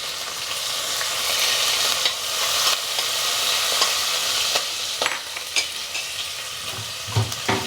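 Dried red chillies and garlic fry in hot oil for a tomato and amaranth-leaf curry, giving a steady, close sizzle throughout. Several sharp clinks of a stirring spoon against the pan come near the end.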